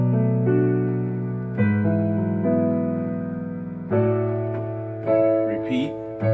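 Slow piano rendition of the worship song "I Call You Jesus" rings out in sustained chords, a few struck and left to decay, warm and alone with no talking.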